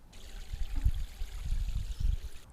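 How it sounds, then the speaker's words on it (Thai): Water poured from a watering can onto a bamboo-leaf compost layer, a soft, uneven splashing and trickling in short surges, fairly close, with no talking. "ต่อไปก็คือการลดน้ำนะครับน้ำที่เราเหลือครึ่งบัวนะครับ"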